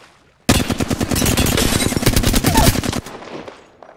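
Rapid automatic gunfire in a video game firefight, a loud sustained burst of evenly spaced shots lasting about two and a half seconds, then cutting off into a quiet tail.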